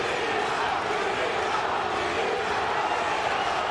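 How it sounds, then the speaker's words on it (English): Arena crowd at a Bellator mixed martial arts event in San Diego chanting for fighter Douglas Lima, a dense, steady roar of many voices that stays loud and continuous throughout. "Lima, the adopted favorite here in San Diego, chanting in the crowd"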